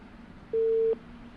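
A steady telephone busy tone sounds once, lasting under half a second, after a phone call drops during a live TV news debate. The tone is loud and clear over a faint hum, and no one speaks.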